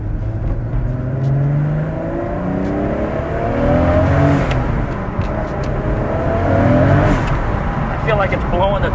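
Toyota Supra accelerating hard from inside the cabin, a loud, steady engine roar rising in pitch over several seconds while people keep talking over it.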